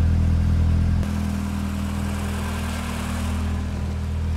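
A warm Renault Clio 16S engine idles around 900 rpm, a steady close mechanical drone with a slight shift in tone after a second, running alone without talk.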